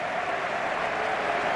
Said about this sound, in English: there'll be a big round of applause, deservedly so, for Costa